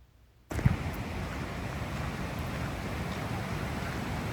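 A waterfall spills down beside a forest river, making a steady, broadband rushing roar that starts abruptly and holds at an even level with no voices.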